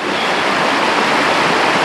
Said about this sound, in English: And of course this is Reed's Creek.